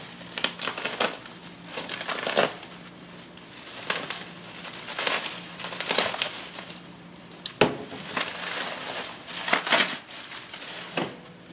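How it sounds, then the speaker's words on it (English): A filter piston for an ABW filter is pulled from its packaging, giving bursts of crinkling and rustling wrapping up close, with irregular crackles and short pauses between them. "So what you'll need first is to take the piston out of its packaging."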